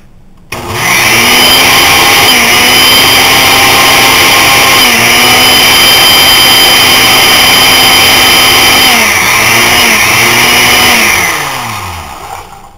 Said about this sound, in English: Hear the sound of the blender changing. It's about to blend it up.